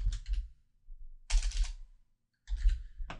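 Bursts of quick clicking keystrokes on a computer keyboard as short meme text is typed, three close clusters separated by brief silences, no voices.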